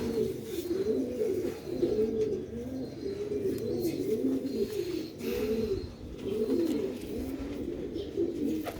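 Pigeons of a fancy breed cooing in a loft, a steady series of low throaty rolling coos repeating close by, with faint chirps in the background and no talk.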